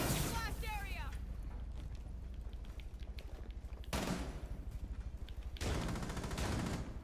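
Gunfire in the video game Rainbow Six Siege comes in a few short, sharp bursts spread over several seconds, set against a low game background hum.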